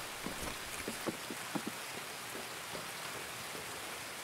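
Steady rain pours in the Escape from Tarkov game, a dense even hiss of falling water with faint low drop-like taps scattered through it.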